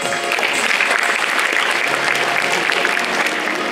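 Audience applause at an awards ceremony for a short filmmaking contest, a dense, steady wash of many hands clapping together, loud and sustained for the whole stretch with no voices over it.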